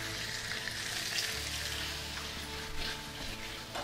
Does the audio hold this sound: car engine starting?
no